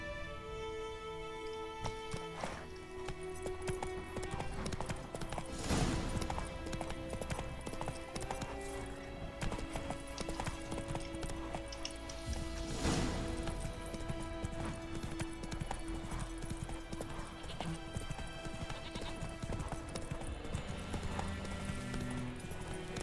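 The horse Roach in The Witcher 3 gallops with steady rhythmic hoofbeats clip-clopping along a road, joined by a couple of louder snorts or whinnies and game music underneath.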